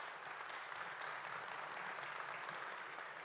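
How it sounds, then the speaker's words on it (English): An audience at a town hall meeting applauds in a steady, even wash of clapping that is moderately distant and continues without pause from start to finish. "Give yourself a round of applause, please, for all of you being here"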